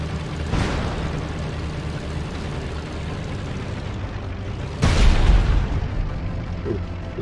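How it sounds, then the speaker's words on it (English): A fuel explosion in the top-down tactical tank game Tankocracy: one deep boom lands early, a second, louder blast hits near the middle and rumbles on, both over steady game ambience with no talk. "That was a fuel explosion."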